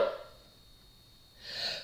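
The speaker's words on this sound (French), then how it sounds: "Je vais éternuer." A woman sneezes during a paper-crafting session, a short burst at the start followed by a second breathy exhale near the end, fairly quiet and close with no talk over it.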